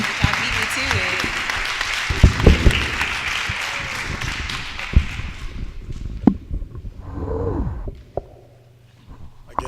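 An audience at a media talk applauds to welcome the speaker, loud clapping at first that thins out and fades within a few seconds, giving way to someone speaking with occasional thumps.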